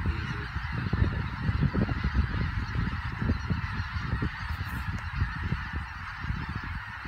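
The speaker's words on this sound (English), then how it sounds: "That's a bunch of specks." A large flock of specklebelly geese calls continuously outdoors, with many overlapping honks and yelps forming a dense, steady chorus at moderate distance.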